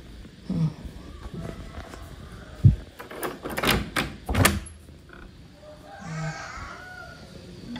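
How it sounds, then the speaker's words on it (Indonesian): A door is opened indoors early in the morning at home, giving a few knocks, a sharp thud and rattling clatter of the handle and frame, followed by faint shuffling and a soft voice. "Mama bukain pintu dulu."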